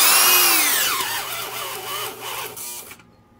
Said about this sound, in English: For giggles, I'm going to try the 1-inch auger, but I doubt it'll do it.